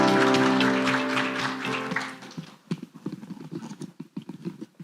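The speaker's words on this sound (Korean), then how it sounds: "큰 박수로 모시겠습니다." Audience clapping welcomes a presenter at the CES 2023 K-Startup review seminar; a sustained musical tone fades into a loose, rhythmic burst of claps from a hall crowd.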